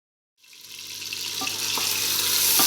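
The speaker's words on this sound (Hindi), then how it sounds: "हमने एक मीडियम साइज़ का प्याज लिया और इसमें हाफ कप ऑयल ऐड कर दिया है। अब हम इसको फ्राई करेंगे।" A medium onion sizzles in about half a cup of hot oil, a steady, close hiss that starts abruptly and grows a little louder, with faint pops and no talk.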